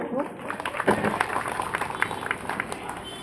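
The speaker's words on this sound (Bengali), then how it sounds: "প্রত্যেকে করতালি দিয়ে দেন একটু" Audience clapping at an outdoor clothing distribution ceremony in Panchanantala, a steady crowd applause with some scattered louder claps throughout, moderately near.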